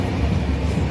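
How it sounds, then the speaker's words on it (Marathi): Interior of a moving passenger train in the morning, a steady, loud rumbling roar of wheels and carriage noise with no talk. "सध्या आम्ही ट्रेनमध्ये सकाळी बसलो."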